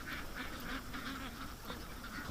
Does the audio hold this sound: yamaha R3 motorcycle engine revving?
no